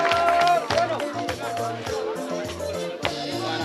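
A crowd claps together at a church ceremony held to invest youth members at Master Guide level, with sustained, dense applause running throughout, loud and close, mixed with babble and music.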